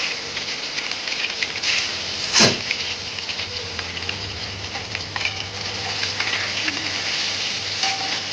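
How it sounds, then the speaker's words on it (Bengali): Eggs coated in salt and turmeric fry in a pan, giving a steady close sizzle and crackle with a sharp clatter early on as they are dropped in, and no speech. "ভালো করে ডিমগুলো ভাজবো।"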